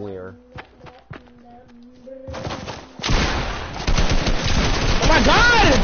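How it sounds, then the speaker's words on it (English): Gunfire in the video game Fortnite, a few sharp isolated shots and footsteps giving way to loud sustained bursts of automatic fire that continue to the end, with a voice briefly speaking amid the shooting. "They're both shooting at me!"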